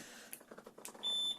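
Intruder alarm fitted in a Sterling Eccles Elite Explorer being set: a few soft clicks, then a single clear electronic beep lasting under half a second, close and alone.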